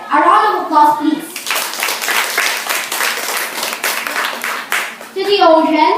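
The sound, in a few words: audience applause for the first opposition speaker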